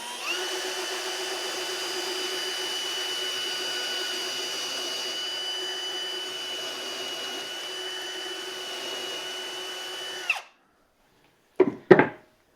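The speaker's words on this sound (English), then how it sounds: "We just stick this in here, crank up the drill." A power drill whines steadily for about ten seconds while boring a pocket hole through wood held in a pocket-joinery jig, then cuts off, followed by a couple of brief clunks.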